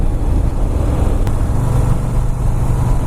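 A Harley-Davidson Fat Boy S pulls along a back road in third gear, its engine giving a steady, loud low rumble under constant wind rush, with no talking.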